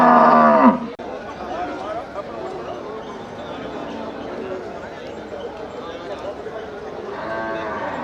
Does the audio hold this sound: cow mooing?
yes